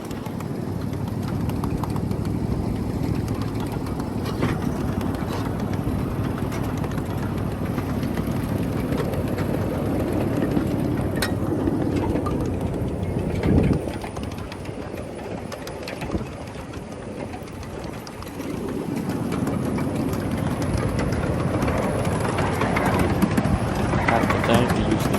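Live steam miniature locomotive at the Houston Area Live Steamers track in Zube Park, running with a steady rhythmic clatter of wheels over rail joints for most of the run, dipping briefly midway, with faint voices underneath.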